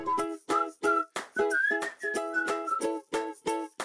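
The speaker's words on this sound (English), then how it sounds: "It even makes a sound when time runs out." A Learning Resources Time Tracker visual timer alarm chirps in a quick, rhythmic run of short melodic tones, bright and electronic, repeating steadily for a few seconds with no voices.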